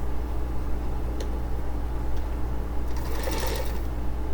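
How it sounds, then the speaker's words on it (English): A sewing machine stitches on a fabric scrap with a close, steady mechanical whir and rapid ticking that runs continuously, with no talk. "Let me see how it sews on my little scrap here."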